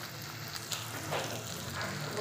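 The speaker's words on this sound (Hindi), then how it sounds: "ये देखिए हमारा मसाला अच्छे से फ्राई हो चुके हैं" Spice masala frying in a pan for butter khichdi, a quiet, continuous sizzle with faint crackles and no talking.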